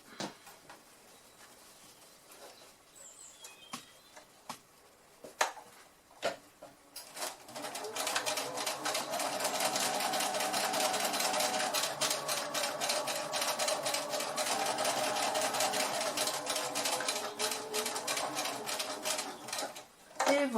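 A sewing machine stitches a bag handle in one steady, loud whirring run lasting about twelve seconds. Scattered clicks and handling noises come before it, and it stops abruptly near the end.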